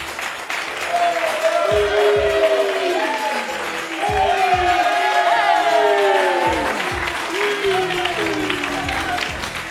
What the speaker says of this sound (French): applaudit Abdoulaye